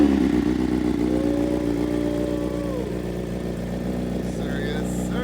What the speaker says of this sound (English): Let's get this cold start going, baby.